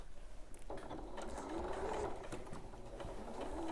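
A sewing machine stitches down fabric binding in a steady, close, continuous mechanical whir that starts up after a brief pause, with no talking.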